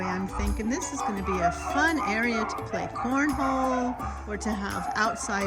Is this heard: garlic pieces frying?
no